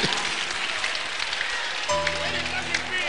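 Applause from a church singles meeting crowd, a dense wash of clapping with a voice and tonal sounds entering partway through.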